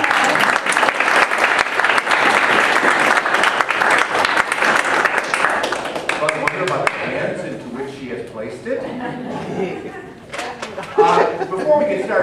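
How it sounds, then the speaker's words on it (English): A crowd applauds loudly and steadily for several seconds, then the clapping thins out and fades into murmuring voices and scattered claps. "should we applaud Dr. Lewis for all that she's done?"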